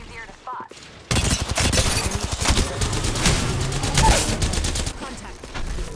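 Rapid gunfire in Apex Legends, with a close, loud stream of shots and bursts that follows a short quieter start with a voice, then carries on densely for several seconds.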